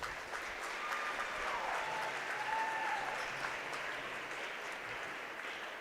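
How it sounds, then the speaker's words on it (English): A crowd in a school gym claps at a high school basketball game's winter homecoming, a steady, fairly distant wash of applause lasting several seconds with faint voices underneath. "Let's give them both a round of applause."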